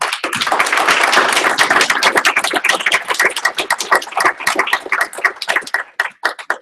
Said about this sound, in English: Maybe we should give a round of applause to our